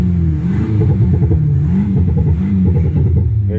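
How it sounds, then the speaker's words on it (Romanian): A BMW X6 G06 with a Thor exhaust revs repeatedly, its deep growl rising and falling in pitch, loud and close with no talking. "vreau să vă prezint câteva dintre demonstrațiile cu această evacuare tor"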